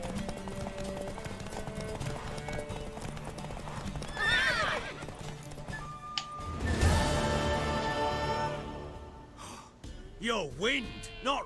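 Hooves clip-clop and a horse neighs in The Witcher 3 video game, the whinny rising loud around the middle and a snorting call near the end, heard under music and spoken dialogue.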